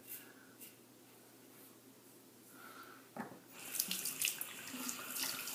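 A RazoRock TTO safety razor is rinsed under a running sink tap. A quiet lull and a faint click come first, then the water gushes on, splashing steadily against the metal, close by and without talking.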